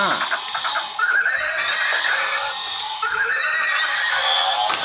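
A battery-powered toy horse gives two bright, shrill electronic neighs, each about a second long, close and loud, with a child's or adult's voice talking around them.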